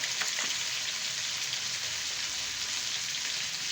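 Spices sizzle in hot oil for a dhaba-style masoor dal tadka, a dense, even crackling hiss that holds steady and close throughout with no talking.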